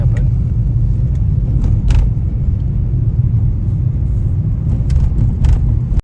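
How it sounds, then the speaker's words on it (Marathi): A car climbing a winding ghat section of mountain road on the way to Daulatabad Fort in Maharashtra, with a loud, steady low engine and road rumble inside the cabin throughout. "हा घाट सेक्शन आहे, त्याच्यामुळे गाडी एकदम केअरफुली चालवत आहे आपण"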